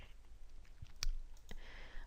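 A single sharp computer mouse click selects a doorway in a floor-plan drawing program, with a fainter click shortly after, both close and isolated against quiet room tone.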